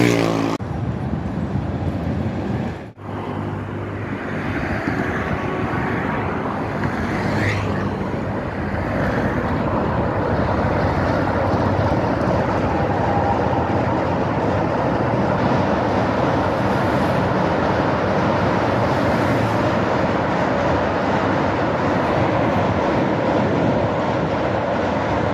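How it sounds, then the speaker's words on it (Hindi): An evening New Delhi–Vaishno Devi Vande Bharat Express passing a bridge near Mohri station: a sustained, loud, broad roar of a fast train rushing by close, steady for the full stretch after a brief sharp onset. "ये थी न्यू दिल्ली वैष्णो देवी इवनिंग वंदे भारत।"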